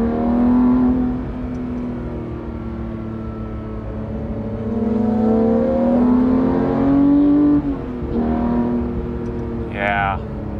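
A manual Porsche 991.2 GT3 with its 4-liter engine, revving loudly as the pitch climbs and falls through the gears, heard close throughout the run.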